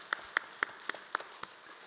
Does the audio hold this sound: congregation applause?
yes